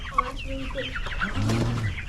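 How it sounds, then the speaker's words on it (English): Hens clucking close by in short, repeated calls, with a brief louder squawk early on and a steady low hum underneath. "So, a lot of nice chickens in here."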